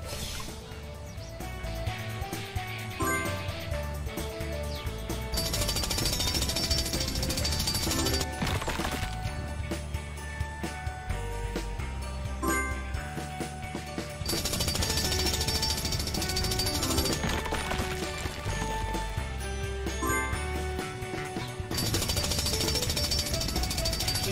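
A video-game jackhammer drill clearing a rock from a path pounds in rapid continuous bursts, loud and mechanical, with heavy rattling that pauses briefly between stretches.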